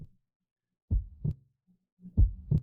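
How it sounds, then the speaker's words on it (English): Heartbeat in The Silver Case video game: two lub-dub beats, each a pair of deep low thumps, separated by a short silence, close and fairly soft with no voices. "Heartbeat."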